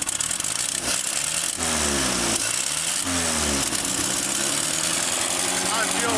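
Land Rover Series 2 farm find engine idling after starting on a temporary fuel tank, a steady, loud mechanical churn with a regular pulsing rhythm throughout, a voice speaking over it at times.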